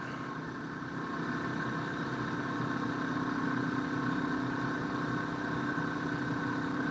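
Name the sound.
pulse motor spinning at 12 volts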